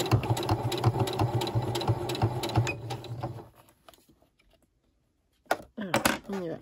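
A sewing machine stitches a seam on a small fabric pouch for eyeglass cleaning cloths, running in rapid, steady bursts for about three seconds and then going quiet. A few short, sharp mechanical clicks follow near the end.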